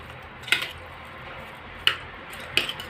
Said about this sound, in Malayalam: തേങ്ങ ഇട്ട് കൊടുക്കാം. നന്നായിട്ടൊന്ന് ഇളക്കാം.